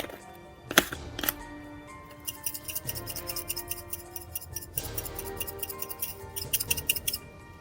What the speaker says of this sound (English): Now tightly screw the lid on and shake it up.